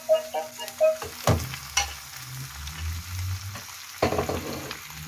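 Rabbit pieces frying in a pan of hot olive oil, a steady close sizzle with utensil clinks and stirring scrapes at the start.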